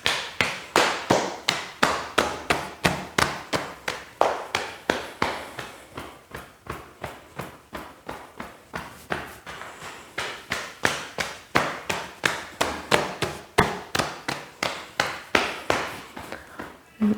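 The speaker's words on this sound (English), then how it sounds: "And again, knocking on our hips." Steady rhythmic knocking of fists on the hips during a qigong routine, dozens of evenly spaced soft thumping taps, close and moderately loud, continuing without pause.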